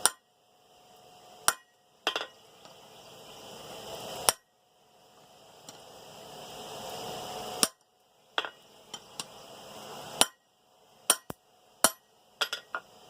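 Sharp metal-on-metal hammer blows forcing a square steel bar into a chisel-cut groove while forging wolf jaw tongs, some in quick bursts and some spaced apart, with ringing clinks between strikes.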